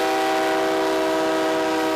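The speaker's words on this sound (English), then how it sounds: "eventually allowed trains like this one to pass through." Train horn sounding from a train on railroad tracks in Bismarck, a sustained loud tonal blast holding steady for the whole stretch over a low rumble of the passing rail cars.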